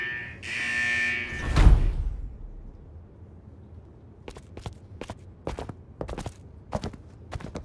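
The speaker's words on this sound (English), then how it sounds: "Is that the central alarm of the vault?" Vault central alarm in a video game, a loud steady electronic buzz for about a second and a half ending in a heavy thud, then quiet with a series of sharp footstep-like clicks.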